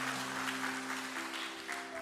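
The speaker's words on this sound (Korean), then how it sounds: "우리가 박수로 환영하고 싶습니다" Congregation applauding to welcome a new couple during a Korean church service, steady clapping over a sustained organ or keyboard chord, faint and somewhat distant.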